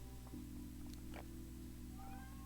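A cat meows faintly in the background, a few thin cries above a steady hum of room noise.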